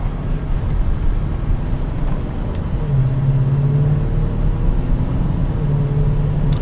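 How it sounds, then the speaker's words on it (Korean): A BMW X5 M60i with a V8 rumbles along while driving around 2000 rpm, a low, steady exhaust drone with slight rises and falls in pitch, continuous and fairly loud inside the cabin. "2000rpm을 왔다 갔다 할 때 나오는 이 배기음은 썩 이게 V8이야? 라고 하는 그런 느낌이 들 정도입니다"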